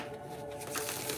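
A deck of oracle cards is riffled and shuffled close up in a quiet room, a brief soft papery flutter with a steady faint hum underneath.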